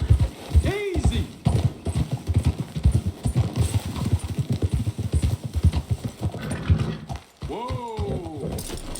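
Horse hooves clip-clop in a steady, close rhythm through Red Dead Redemption 2 gameplay, with whinnies rising near the start and end and a voice talking over the riding.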